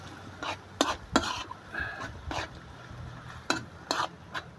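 Rice and mung beans stirred in a pot, with a spoon scraping and knocking the sides in repeated strokes and a soft sizzle underneath.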